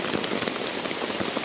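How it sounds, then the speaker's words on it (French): Heavy rain pouring steadily onto a big tent roof in a forest at night, a dense, constant hiss of drops with no pauses. "il pleut de fou furieux dehors"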